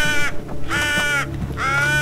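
Crows caw in Assassin's Creed Valhalla, three loud harsh calls spaced evenly with short gaps over a low rumbling game soundscape.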